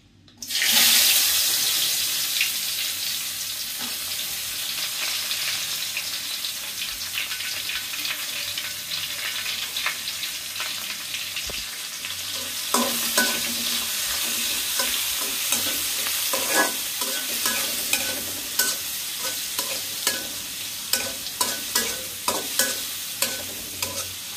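Onions frying with a bay leaf in a pan, a loud sizzle that starts abruptly and holds steady, joined later by repeated scraping stirs and clinks of a utensil against the pan, with no voices.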